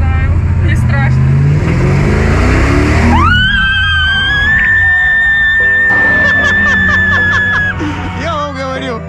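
A Lamborghini sports car accelerates hard, its engine note climbing into a rising whine that holds steady, close and loud, while passengers talk, laugh and shriek over it.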